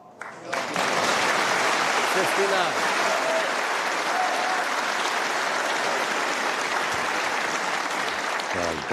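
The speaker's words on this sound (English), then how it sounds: "Oh, you heard the applause. What a wonderful shot." Snooker audience at a Tour Championship semi-final breaks into loud, sustained applause for a shot, starting abruptly and holding a dense, even roar of clapping, with a voice speaking over it.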